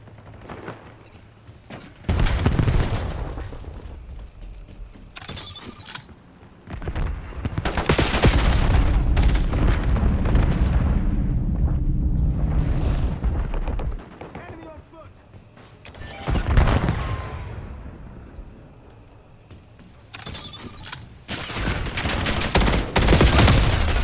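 Frag grenade blasts and heavy gunfire from Call of Duty Black Ops 7 multiplayer come in loud booming bursts and sustained rattling volleys, close and dense, with game voice callouts mixed in.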